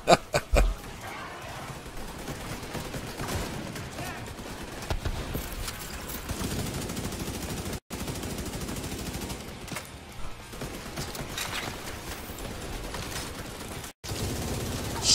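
Dense, continuous gunfire from a video game, rapid bursts running almost unbroken across the clip with two brief drop-outs, loud and busy with no speech over it.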